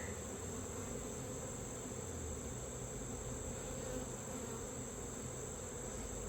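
A constant, faint drone of many bees buzzing together around an open hive during inspection, steady and unbroken, with a soft high whine layered over the low hum.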